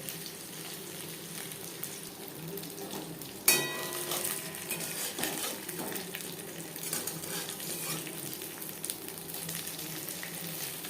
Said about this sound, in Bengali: সব থেকে ভালো হবে যদি পুরো ভাজাটাই লো ফ্লেমে করে